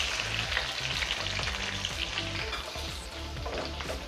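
Chopped onions frying in butter in a pan, with a dense, continuous sizzle and crackle plus occasional stirring scrapes, close and steady with no talking.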